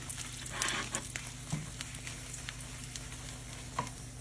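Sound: chile de árbol frying in oil for red salsa

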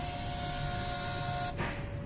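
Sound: Sherwood 410 flame photometer controller printing calibration

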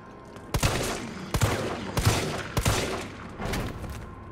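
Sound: gunfire in the video game Resident Evil 3

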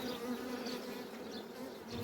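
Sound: honeybees buzzing at open hive

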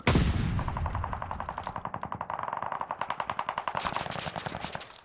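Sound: gunfire, from a video game

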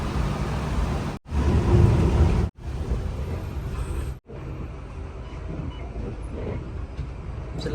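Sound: heavy rain during a bus journey

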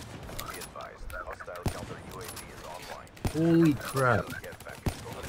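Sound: sniper rifle shots in Black Ops 3 video game

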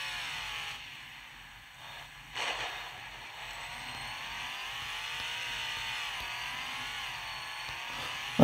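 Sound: Land Rover engine revving while climbing a hill

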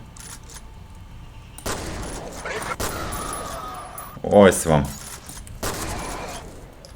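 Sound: gunfire from a weapon in the video game F.E.A.R

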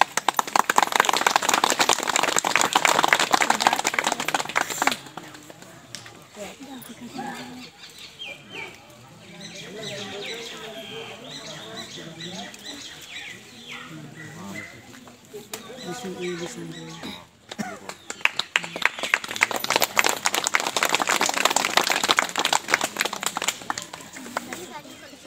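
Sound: loud clapping of welcome

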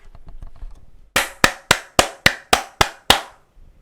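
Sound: clapping

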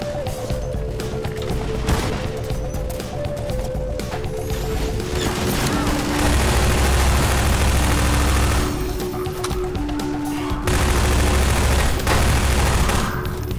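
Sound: Magnum revolver gunfire in Half-Life 2 Episode 2 video game

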